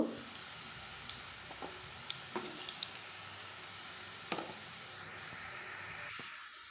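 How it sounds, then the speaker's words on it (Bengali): Jackfruit kofta balls sizzle steadily in hot oil in a pan, with a few soft knocks and scrapes as they are turned gently, the frying hiss continuous and close with no talking. "এইভাবে পুরোটাই আমি ভেজে নেব"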